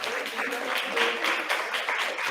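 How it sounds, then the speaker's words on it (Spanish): An audience claps at the close of a university writing workshop talk. The clapping is moderate and uneven, with irregular claps that rise and fall over a couple of seconds, and no speech is heard. "Y el aplauso."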